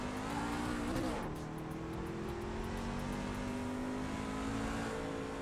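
A race car engine in the iRacing sim, held at a steady, loud drone with a slight pitch dip early on, continuous throughout with no talking.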